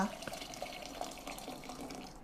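Water is poured for making milk from sweetened grain powder, a steady, faint, close trickling splash that runs for the whole stretch with small fluctuations.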